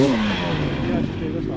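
A KTM 300 two-stroke motorcycle engine running roughly, a loud, close, continuous rasping drone with an uneven, slightly wavering pitch that settles lower over the short span.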